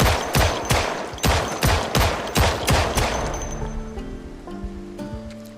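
Rapid pistol gunfire in the game Project Zomboid: about ten loud, close shots in a quick uneven rhythm, trailing off as a tonal game sound rises underneath.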